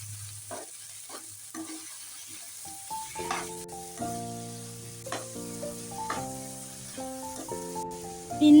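Gentle sizzling in a pan with scattered clinks and scrapes of stirring, under soft background music, while sautéing for a prawn gravy before adding chopped tomatoes.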